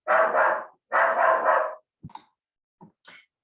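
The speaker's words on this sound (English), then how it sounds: "My dog was barking" A pet dog indoors lets out two long, harsh, raspy barks close by, followed by a few short, faint yips and scuffles.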